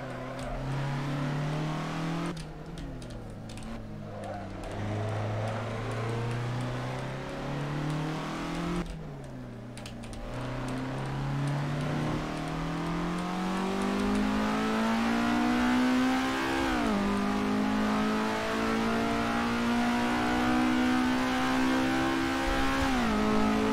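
Race car engine in Assetto Corsa climbing in pitch as it accelerates out of a corner, with brief dips at two gear shifts before a long, steady rising drone, loud and close with no talking.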